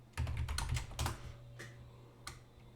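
Keys clatter on a computer keyboard during work in a Kaisen Linux terminal: a quick burst of close, crisp keystrokes, then a few sparse, softer taps trailing off.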